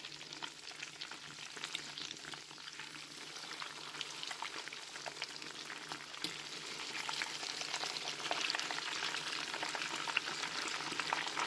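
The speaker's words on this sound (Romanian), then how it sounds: "Le coc în ulei de măsline" Mushroom-stuffed pork patties frying in olive oil give a steady, close crackling sizzle with dense spitting pops that grows slightly louder toward the end, and no voices are heard.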